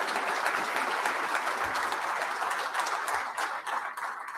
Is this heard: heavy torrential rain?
no